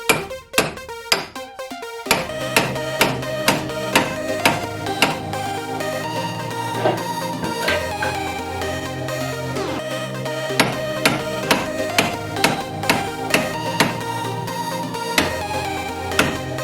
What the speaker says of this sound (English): I'm going to have to get a bigger hammer.